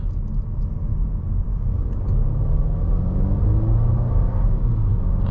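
A 2023 Volvo S60 B5 Plus turbo sedan accelerating uphill, heard from inside the cabin as a steady low rumble with rising engine pitch over several seconds, no talking.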